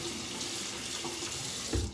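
Steady rush of water running from a tap into a sink during a rinse, continuous and close, with a brief louder splash near the end and no voices.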